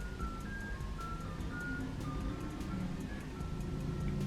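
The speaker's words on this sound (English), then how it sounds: "I hear the ice cream truck." An ice cream truck's jingle plays steadily for several seconds as a repeating melodic tune, moderately loud with a low engine and street rumble underneath.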